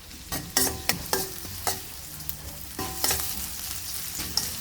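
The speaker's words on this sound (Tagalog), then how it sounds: "Igisa na natin itong ating luya at sibuyas" Ginger and onion sautéing in oil in a pan, a steady low sizzle broken by repeated sharp clinks and scrapes of a utensil stirring, with no talk.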